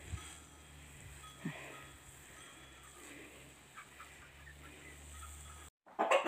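Chickens in a backyard coop cluck softly and intermittently against a constant low hum, with scattered faint bird calls and a brief louder rustle at the end.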